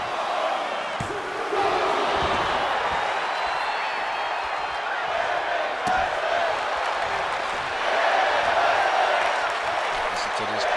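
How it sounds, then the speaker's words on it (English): Wrestling arena crowd at a women's wrestling match on Raw, a dense continuous roar of cheering and chanting that swells louder near the end, with scattered claps and shouts within the mass of voices. "Listen to this crowd."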